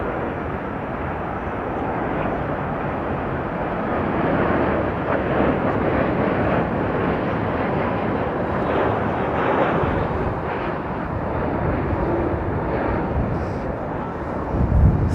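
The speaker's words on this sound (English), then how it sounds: "This is Aeromexico 787 Dreamliner." An Aeromexico Boeing 787 Dreamliner on approach to land at London Heathrow gives a steady, broad jet roar that holds loud and even for the whole stretch.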